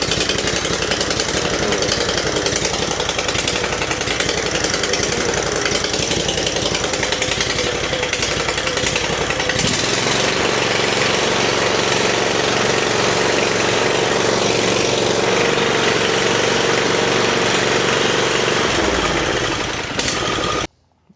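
Small gasoline engine on a Toro Z Master zero-turn mower runs loud and steady close by, its pitch shifting partway through as the throttle is worked, then cutting off abruptly at the end.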